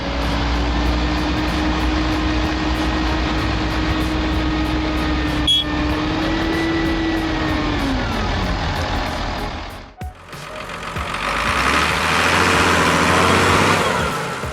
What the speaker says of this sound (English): The engines roar like beasts, but the truck remains stubbornly stuck.